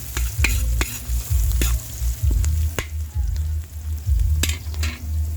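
Garlic and onion sauté in a pan for a barangay fiesta dish, a steady close sizzle with repeated scraping stir strokes and sharp utensil clicks against the pan.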